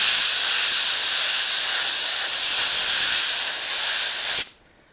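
An airbrush sprays a light mist of blue paint in one steady, loud, close hiss that stops abruptly near the end.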